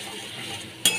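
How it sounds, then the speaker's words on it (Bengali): Spices such as ground cumin are stirred into hot oil in a pan, a soft steady sizzle with a sharp scrape of the spoon against the pan near the end. "ভালো করে আমি কষিয়ে নিচ্ছি।"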